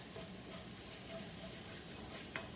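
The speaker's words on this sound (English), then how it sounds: "now stir that up" Red curry sauce in a very hot pot for poached striped bass, stirred with a spoon over a steady soft sizzle and bubbling, faint and close, with one brief scrape near the end.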